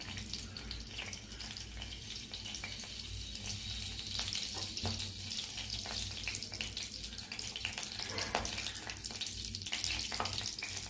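Mustard seeds splutter and crackle in hot oil in a pan for a Kottayam-style tempering, a steady sizzle dotted with scattered sharp pops throughout, with no talking.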